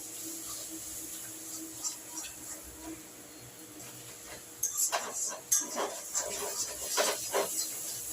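Taro stolon mash being stirred and pressed in an oiled pan: a faint steady hiss, then a run of scraping and clinking spoon strokes in the second half, close, no talk.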